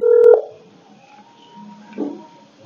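A telephone keypad sounds a short, clear series of dialing tones, loud at first, followed by faint quieter tones and a brief ringing blip, with no talking.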